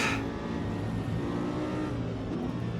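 Race cars in the Automobilista 2 sim racing game, a Mercedes and a McLaren among them, roar steadily with dense engine noise and revving throughout, loud and close with no speech over it.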